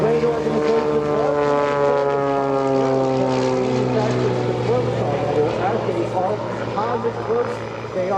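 A seaplane on composite floats made in Idaho roars past at the EAA AirVenture 2024 seaplane showcase, its propeller engine a loud, steady drone with a pitch that shifts as it passes, while an announcer talks over it.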